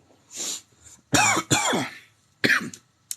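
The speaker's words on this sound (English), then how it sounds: "Sorry, I'll try not to cough in front of all of you guys." Several dry, hoarse coughs in quick bursts, close to the microphone, with brief silent gaps between them.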